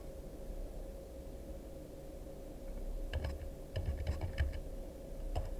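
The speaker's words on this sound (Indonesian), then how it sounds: "kita ketik sesuai dengan alamat kita" Quick bursts of computer keyboard typing, close and fairly quiet, clustering in the second half over a low steady hum, with no voices.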